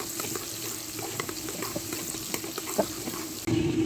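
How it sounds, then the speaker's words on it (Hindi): Chopped onions browning in a pan for aloo keema, a continuous close hiss of frying with a few small crackles and a clatter near the end, with no speech. "प्याज को अच्छी तरह से ब्राउन करेंगे।"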